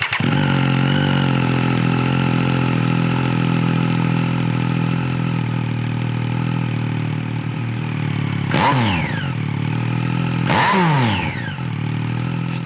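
A motorcycle fitted with a new aftermarket exhaust and baffle idles loudly up close with a steady rumbling tone, broken by two sharp throttle blips that rise and fall near the end.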